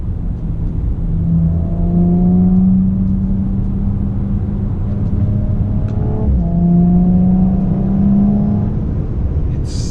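A 2018 Audi RS4 B9 engine revving while driving, heard from inside the car as a smooth rising whir that climbs twice, with a brief dip between pulls, over a constant road rumble.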